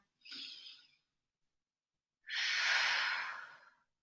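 Deep breathing during a morning yoga stretching class: a soft airy breath, a tiny click, then a longer, louder rushing exhale, heard close and alone with no talking.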